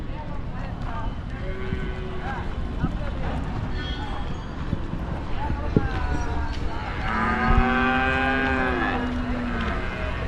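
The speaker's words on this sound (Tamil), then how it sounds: "எல்லாம் பெரிய பெரிய எருமையாக வாங்கியிருக்காங்க." Buffaloes low at a cattle market in Uppidamangalam, Karur, with several long, loud moos near and far. Continuous crowd chatter and scattered knocks run underneath.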